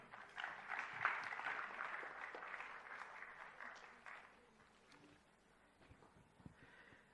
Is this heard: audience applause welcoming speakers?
yes